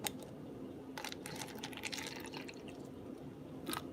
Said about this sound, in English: And I'm going to fill up this little cup with the water.